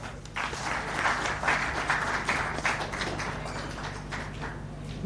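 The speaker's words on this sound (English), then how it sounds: "Another round of applause for Keith Karejira, the CEO of Capital Markets Authority." Applause at a corporate IPO conference hall, a moderate, steady patter of clapping over a low electrical hum, sustained for about five seconds with no voices.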